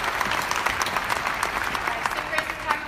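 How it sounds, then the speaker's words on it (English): Sustained applause from a group, many hands clapping steadily at close range with a faint murmur of voices under it. "I'm actually clapping that out."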